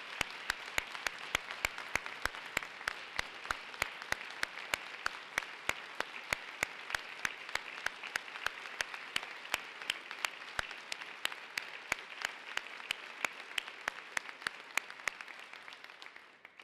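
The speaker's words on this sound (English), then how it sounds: "let's give Tom a round of applause for his continued battle" An inaugural ceremony audience in Somerville, Massachusetts gives a long, steady round of applause, dense crowd clapping with some sharper near claps standing out, fading slightly at the very end.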